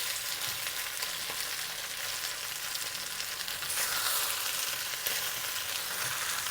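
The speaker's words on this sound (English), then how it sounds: "The purpose of searing the meat is to seal the juices in and enhance the flavor." Chicken sears in a claypot with a steady, close hiss and sizzle of frying, fairly quiet, with occasional faint stirring taps and no talking.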